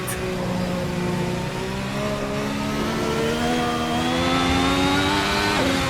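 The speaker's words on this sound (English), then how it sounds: "Next up, the Ferrari SF70H. Yes, this is a Formula 1 car from 2017" A 2017 Ferrari SF70H Formula 1 car in a racing video game, its engine screaming steadily and climbing in pitch through rapid upshifts, loud and continuous with no talk over it.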